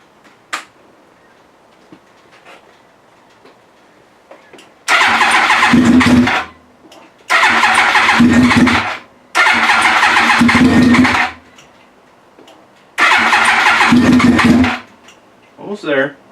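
A Yamaha R1 sport bike engine being brought back to life after rebuilding cranks over in four loud, sustained bursts of several seconds each, separated by short pauses, without catching to a steady idle.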